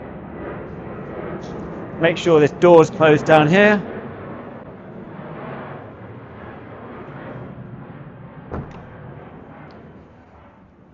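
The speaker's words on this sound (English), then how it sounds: "Sorry, excuse the planes. We're near Stansted Airport, so it gets pretty loud sometimes." Airplanes pass over near Stansted Airport, a steady low rumble under a man's nearby speech indoors, continuing as background noise after he stops talking.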